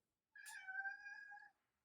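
A house cat lets out one clear, drawn-out meow lasting about a second, close by in a quiet room, with no talk.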